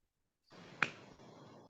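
A single sharp clap from a child in a classroom clapping game, a lone crisp hit rising briefly above a soft background hum, with no talk.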